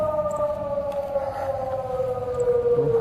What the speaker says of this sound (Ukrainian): Для них лунає тривога.